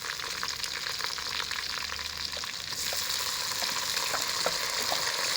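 Onion, garlic and tomato frying in a karahi, a steady close sizzle with scattered crackles and spoon scrapes, slightly louder toward the end, no voices.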